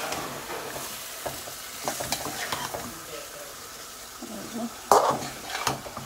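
Fresh loitta fish fries in hot oil in a pan, giving a steady close sizzle with occasional stirring clinks and a sharp spattering burst partway through.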